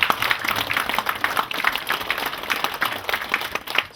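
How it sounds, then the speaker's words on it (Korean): Audience applause at a literary society gathering during a regional arts festival, steady dense clapping from a crowd throughout, moderately loud and continuous. "우리 박수로 한번 이렇게 맞이해주십시오"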